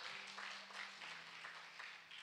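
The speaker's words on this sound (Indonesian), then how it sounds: "Tepuk tangan bagi Tuhan kita." Congregation applauding during a church worship service, a steady wash of clapping from many hands that carries through the whole moment at moderate volume.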